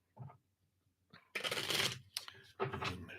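Tarot cards are shuffled by hand at close range in two rustling, riffling bursts after a few faint taps, moderately loud, with no talk.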